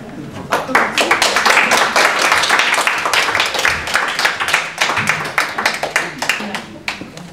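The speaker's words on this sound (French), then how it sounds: "Vous pouvez recommencer les applaudissements parce que la caméra n'avait pas commencé là." An audience in a municipal archives hall bursts into sustained applause, many hands clapping densely and loudly close by, thinning to scattered claps toward the end.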